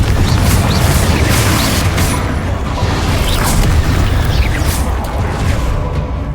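Confringo spell blasts in Hogwarts Legacy, loud booming explosive bursts layered over dense, sustained rumbling combat noise with no speech.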